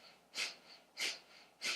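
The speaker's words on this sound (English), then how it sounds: "you can do a gentle inhale." Three soft, airy breaths spaced evenly, each a gentle inhale during pranayama breathing practice, quiet and close with no talking.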